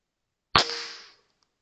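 A single sharp gunshot from a rifle fitted with an Arken Zulus 5x20 night vision scope, fired at mice, cracking once and ringing out briefly before fading to silence.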